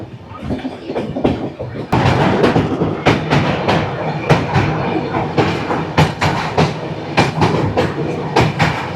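Black Diamond Express pulls away again toward Bardhaman Junction, its wheels clattering over rail joints in a quickening clickety-clack with thumps and a steady rumble, heard close from inside the carriage, no clear talk.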